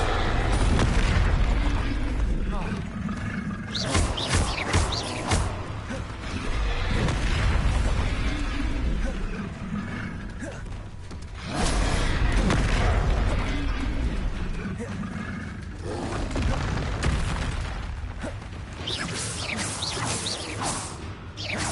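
Confringo blasting spells in Hogwarts Legacy gameplay, repeated booming explosions and whooshes in bursts across the span, loud and layered with game sounds while a person calls out spell names.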